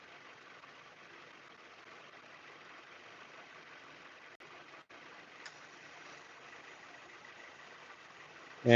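A 2018 Subaru Forester XT engine idles during an idle speed control actuator test, giving a faint, steady, even hum that holds unchanged with no voices.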